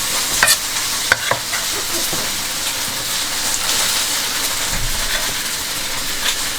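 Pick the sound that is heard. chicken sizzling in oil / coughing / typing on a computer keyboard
chicken sizzling in oil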